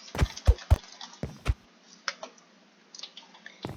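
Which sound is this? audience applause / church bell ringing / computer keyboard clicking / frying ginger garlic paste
computer keyboard clicking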